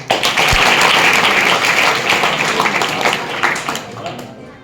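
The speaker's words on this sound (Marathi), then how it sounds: "करेक्ट मस्त टाळ्या वाजवायचं" A crowd claps steadily for several seconds, a dense patter of applause that gradually thins toward the end.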